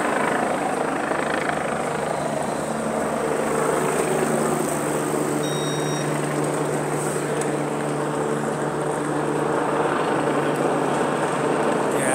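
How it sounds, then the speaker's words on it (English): A police helicopter hovering overhead above a narrow street entrance in Charing Cross, a loud, steady rotor drone with a constant hum that holds unbroken throughout. "police helicopter's still overhead."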